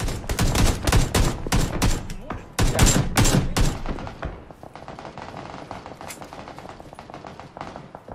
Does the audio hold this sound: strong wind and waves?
no